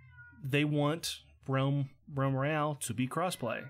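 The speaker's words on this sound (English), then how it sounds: "That is the cat that has been screaming at my door for the past 2 weeks." A cat screams at a door with several loud, drawn-out meows in a row, close and insistent, while someone talks at the same time.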